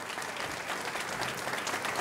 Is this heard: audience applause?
yes